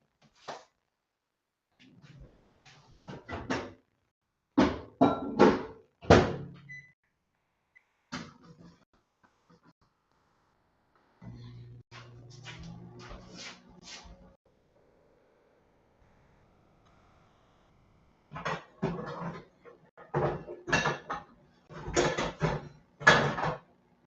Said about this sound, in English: I'm going to get my pork out and my fry pan and get that pork cooking.